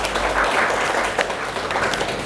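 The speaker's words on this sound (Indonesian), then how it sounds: "Tepuk tangan untuk Mbak Rasa" A class applauds a student with a brief, continuous patter of many clapping hands filling the room, steady in loudness throughout.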